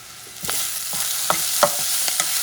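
Cayenne-seasoned beans mixture stirred in a pot: a run of wet scraping strokes and soft knocks against the pot over a steady sizzle, close and clear with no voices.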